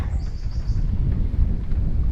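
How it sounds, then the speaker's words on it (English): Steady low wind rumble buffeting the microphone, continuous and fairly loud throughout, with no voices. "it's a lot more windy today"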